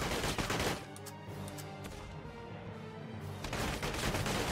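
Gunfire in the wartime tactics game Valkyria Chronicles 4: a dense, rattling volley of shots, loud at the start, easing into a steady battlefield din, then swelling again near the end.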